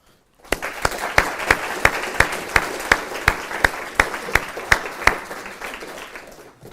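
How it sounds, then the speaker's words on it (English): An audience applauds debate students at a university debate series event, with a few claps standing out in a steady, even rhythm that fades toward the end. "I want to give them a round of applause"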